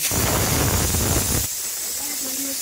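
Kewra water and rose water poured into a pot of rice make a loud, rushing hiss for about a second and a half, then stop abruptly, leaving a quiet background with a faint voice.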